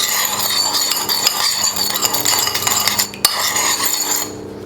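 Lemon drizzle cake syrup being stirred until dissolved: a continuous, close clinking and scraping of a spoon against a bowl, steady and fairly loud, tapering off near the end, with no talking.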